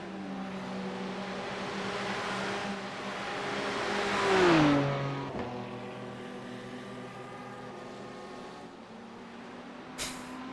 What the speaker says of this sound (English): I do like the backfire when they downshift